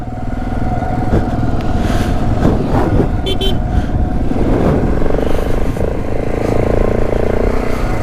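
Mustering motorbikes run in the Strzelecki Desert of outback Australia, giving a loud, continuous engine drone up close with brief horn-like tones partway through and no pauses.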